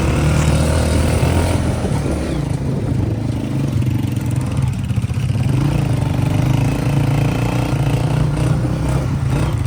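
A rented motorcycle's engine runs steadily on a mountain trek route toward Nanga Parbat base camp in Skardu, a continuous close, loud mechanical drone with no speech.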